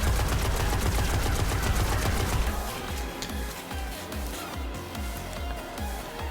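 Suros ARI-45 auto rifle from the game Destiny firing in sustained fully automatic bursts, loud and close, with a rapid pounding rhythm of shots; no voices are heard.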